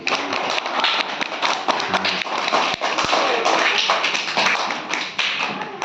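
Schoolchildren in a classroom clap for a classmate, a brisk, uneven patter of close hand claps mixed with occasional thumps, continuing for several seconds.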